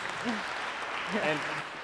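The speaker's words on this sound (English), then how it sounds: "Can we get a round of applause to the speakers?" Conference audience applauding the speakers after a supply chain panel, a steady wash of clapping with a voice briefly speaking over it.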